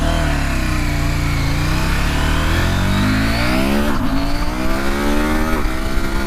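A 2019 KTM 790 Adventure motorcycle engine revs up loud and close, its pitch climbing through the gears in rising sweeps, dropping briefly at each shift before pulling higher again, with steady wind noise behind it.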